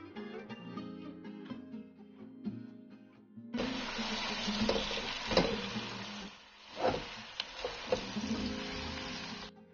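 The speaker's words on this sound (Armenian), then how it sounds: "Կաթսայի մեջ ավելացնում եմ կարագ, ձիթապտղի յուղ և սոխառած եմ անում։" Chopped onion hits hot butter and olive oil in a cooking pot and sizzles steadily: a loud, continuous hiss with crackles that starts partway through and holds to the end, after a quieter stretch of kitchen sounds.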